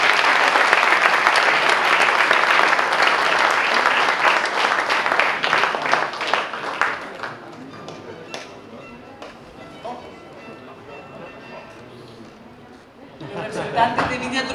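Audience applause at a wine awards ceremony in Chile, after a 2018 Cabernet Sauvignon from Viña Trumao of the Itata Valley wins a prize. Loud, dense clapping fades over several seconds into room murmur, then a fresh burst of clapping rises near the end.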